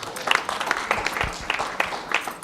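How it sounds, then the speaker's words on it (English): Audience at a community meeting about a sports and entertainment arena giving a round of applause, sparse and uneven clapping from a modest crowd, individual claps standing out at moderate volume. "please give them a round of applause as well"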